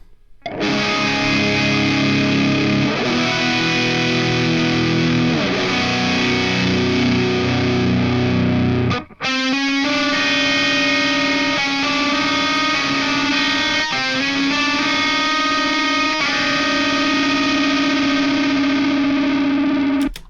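A heavily distorted electric guitar through an Amped Oracle amp simulator plays sustained, saturated chords, loud and continuous, then a brief cut and more ringing distorted notes with a slight fluttering edge.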